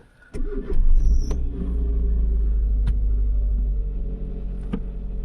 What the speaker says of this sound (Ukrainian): Тепер запускаємо автомобіль.